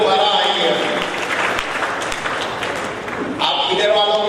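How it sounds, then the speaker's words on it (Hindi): Audience applause at a school event at Godwin School in Goriwala, loud and steady throughout, with voices and chatter mixed into the clapping. "जोरदार सर के लिए पहले तालियां हो जाए"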